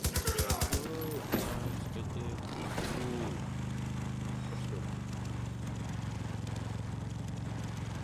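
Rapid turret gunfire in the shooter Far Cry New Dawn, a quick burst of evenly spaced shots at the start, then a steady vehicle engine drone with scattered impacts, and a voice speaks over it.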